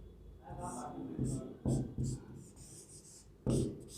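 Marker or chalk writing on a board during a reasoning lesson, short scratchy strokes in uneven bursts heard close under a teacher's speech.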